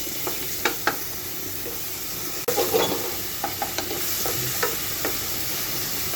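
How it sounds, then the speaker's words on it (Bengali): Onion, garlic paste and ginger paste spice mix frying for a chicken curry, a steady sizzle broken by repeated clinks and scrapes of a spoon stirring in the pan, with no voices. "সব মশলা একসঙ্গে এখন একটু ভেজে নিব ভাজা ভাজা করে নেব"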